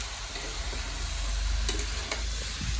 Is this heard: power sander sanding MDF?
no